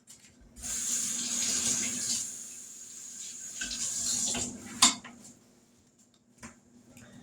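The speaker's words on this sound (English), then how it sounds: "I'll rinse this knife off." A knife is rinsed under a running kitchen tap, a close rush of water that flows, briefly drops, resumes, then stops with a clink and a few small knocks afterward.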